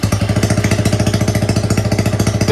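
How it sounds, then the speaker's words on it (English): A Honda Grom motorcycle engine idles with the exhaust removed, loud, rapid, pulsing and unmuffled, harsh and staccato with a steady rhythm. "Let's fire up without the exhaust for a giggle."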